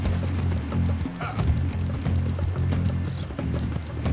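A horse gallops in the video game Red Dead Redemption 2, its rapid clip-clop hoofbeats continuous and loud over a dense rumbling game background.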